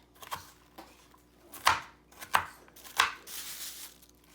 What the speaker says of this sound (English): So let's get started chopping this celery.